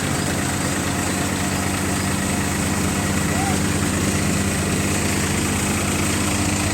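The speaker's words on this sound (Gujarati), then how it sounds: "લગભગ બારસોથી પાંચસો આરપીએમ ઉપર આવી ગયું ટ્રેક્ટર" A tractor engine driving a mustard thresher runs at a steady, high idle around 1,200 to 1,500 rpm, droning continuously with a rough mechanical rumble and no clear pauses.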